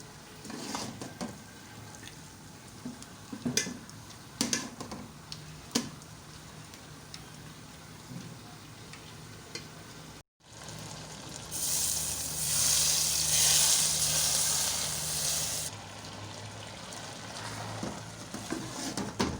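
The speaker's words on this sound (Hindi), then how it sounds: "अब इसमें हरी इलायची का देसी घी में हम तड़का लगाएंगे।" Quiet stirring and scraping in a pot gives way to a steady hiss of green cardamom sizzling in melted ghee, loud for a few seconds before settling back down, while making carrot halwa.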